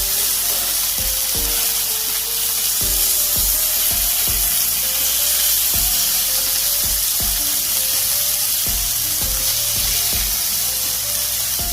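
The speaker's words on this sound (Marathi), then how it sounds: "आता आपण दुसऱ्या बाजूने पण याला 5 मिनिटं थोडंसं फ्राय होऊ देऊया" Bombay duck (bombil) fish fillets frying in oil in a pan, a steady close sizzle running throughout with repeated soft low thumps, no voices.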